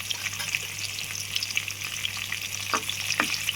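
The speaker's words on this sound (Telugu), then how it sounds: "ఇప్పుడు వీటిని వేపుకుందాము." Ingredients for upma pesarattu fry in a pan with a steady, close sizzle and a few light stirring scrapes.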